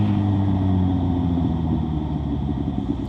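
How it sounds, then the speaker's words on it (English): A 750cc motorcycle engine and exhaust rumble steadily while riding, a loud, deep continuous drone close by with no talking. "Just that exhaust for the sound, for the feeling,"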